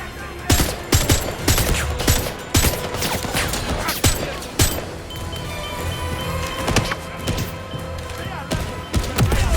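Heavy gunfire in 007 First Light, dense and loud with overlapping automatic bursts and single sharp shots, amid battle noise while voices shout through the fight.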